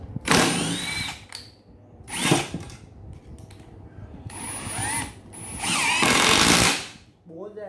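Makita cordless hammer drill on a 14V battery, hammering in several loud bursts with short pauses between them, close up, with a brief whine and some faint background noise.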